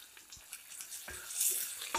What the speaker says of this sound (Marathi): कांदा तेलात व्यवस्थित परतून घ्यायचा आहे